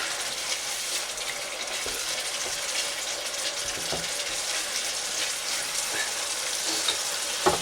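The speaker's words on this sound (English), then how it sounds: "we let that come up to the boil and again cook down" Chunky tomato curry sauce for vegan koftes heating toward a boil in a pan, a steady close bubbling hiss with occasional soft pops and stir sounds, no talking.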